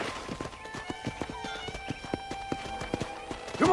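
Horse hooves clip-clop at a steady walking rhythm on ground in the Red Dead Redemption video game, close and clear, with a snort or whinny near the end.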